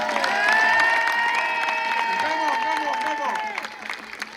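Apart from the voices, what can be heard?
audience applauding the DJ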